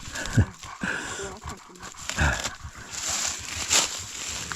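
Dogs making short barks and huffing noises nearby in a forest during mushroom picking, in irregular bursts over outdoor background noise.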